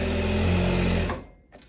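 A sewing machine stitches shirring elastic into linen: a fast, loud, close whir that runs for about a second, then stops, followed by a faint click.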